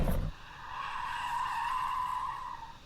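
Tyres screeching on an Audi RS6 being pushed into a drift, a sustained high squeal that rises and holds steadily for a couple of seconds after a brief low thump, then fades slightly.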